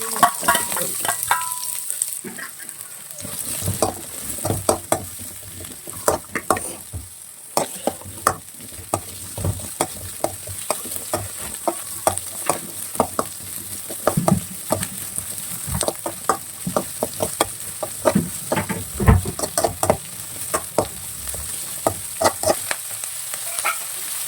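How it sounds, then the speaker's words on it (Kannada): Garlic and ginger fry in oil in a kadai with a steady sizzle, broken by frequent scraping and clattering stirs that run throughout. "ಬೆಳ್ಳುಳ್ಳಿ ಮತ್ತು ಶುಂಠಿ ಇದೆರಡನ್ನು ಹಾಕ್ಬಿಟ್ಟು ಇದ್ರ ಜೊತೆಗೆ ಹಸಿ ವಾಸನೆ ಹೋಗೋದಕ್ಕೆ ಫ್ರೈ ಮಾಡ್ತಾ ಇದ್ದೀನಿ"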